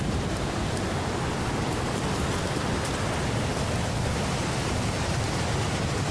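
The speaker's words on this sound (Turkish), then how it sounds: "Şelale güzel." Doğançay waterfall in Turkey rushes as a dense, steady broadband roar, loud and close with no letup and no voices.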